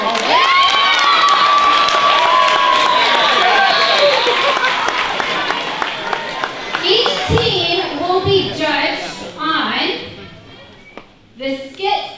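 A camp crowd applauding and cheering loudly for the judges, with children whooping and shouting over dense clapping that fades after several seconds into scattered voices and talk.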